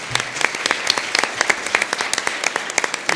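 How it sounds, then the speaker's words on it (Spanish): Audience applause for speakers at the close of an open event, brisk individual claps with sharp peaks spread through a medium-sized crowd, steady and fairly close. "Pido un fuerte aplauso a nuestros expositores."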